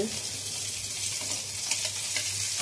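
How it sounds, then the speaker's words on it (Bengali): Chopped garlic frying lightly in a pan, a steady close hiss of sizzling oil with faint stirring scrapes throughout. "রসুন কুচি পরে এই জন্যই দিচ্ছি, আগে দিলি পুড়ে মতন যাবে। এটা তো হালকা করে ভেজে নাও।"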